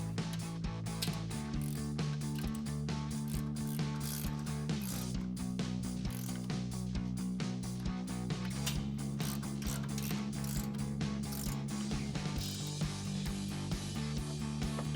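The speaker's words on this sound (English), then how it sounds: "we're going to tighten them down with a 17mm ratcheting wrench" A ratcheting wrench tightens 17mm bolts while installing a coil-over kit on a 2021-2026 Bronco, clicking in a fast, continuous ratchet run with a few short pauses and changes in pitch, loud and close throughout.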